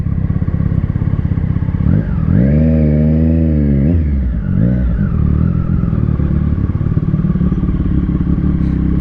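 A motorcycle rolls in at an SWM open day: a steady engine note swells as the throttle is blipped around two and four seconds, then eases back to an even, close idle as the bike is parked, with no voices.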